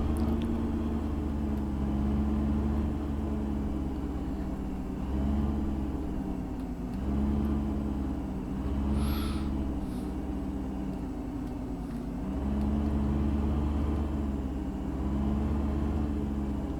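A vehicle drives across the Alps map in Farming Simulator 15, its engine giving a steady, loud, low droning hum that swells and eases in slow cycles, with a brief high whine partway through and no talking.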